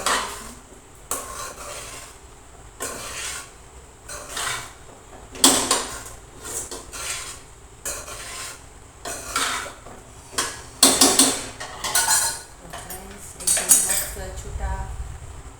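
Poha with potatoes is stirred and mixed in a pan, producing repeated metal spoon scrapes and clinks against the pan in distinct bursts, close and fairly loud, with light sizzling and little speech.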